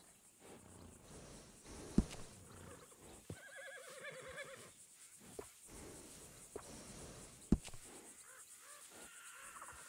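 An Appaloosa horse in Red Dead Redemption 2 whinnies once, a rising then falling neigh, with scattered knocks and faint ambient hiss around it, quiet overall.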